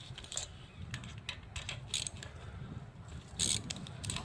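An 8 mm deep socket loosening valve cover bolts on a 2013-2016 Dodge Dart engine, with faint scattered ratchet clicks and light metallic taps in short bursts in a quiet workshop.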